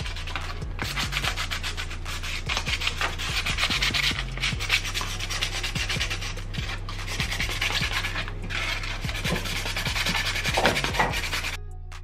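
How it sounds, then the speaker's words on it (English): Sandpaper rubs back and forth across a plastic tumbler dome lid in steady, close, continuous scratchy strokes, with no talking. "This is how your lid will look once you hit it with the sandpaper."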